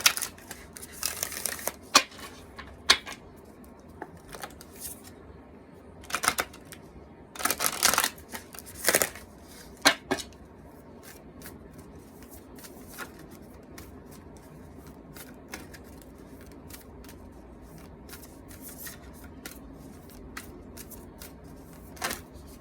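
A Moonology oracle card deck is shuffled by hand in quick bursts of crisp riffling and flicking card clicks, loudest early on, then fading to sparse handling sounds, with no speech.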